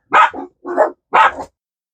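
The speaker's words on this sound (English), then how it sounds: "I have no idea what they were barking at." Indoor dogs bark three times in quick succession, loud and close, with short pauses between the sharp yaps and silence after.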